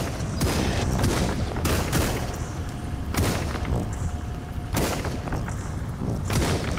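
Repeated bursts of gunfire from a VR shooting game come in rapid volleys every second or two, loud and punchy over a constant low rumble.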